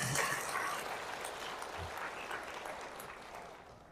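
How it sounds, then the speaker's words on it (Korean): Applause from a parish audience in a Catholic church hall, a steady broadband patter of clapping that fades slightly over a few seconds, no voices over it. "교육분과를 위해서 박수 한번 쳐주세요"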